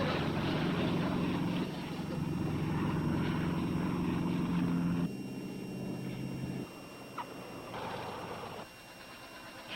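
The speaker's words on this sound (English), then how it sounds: "Look, the plane is coming down." A small plane's steady propeller-engine drone drops in pitch and loudness in stages as it throttles down to land, heard continuously without speech.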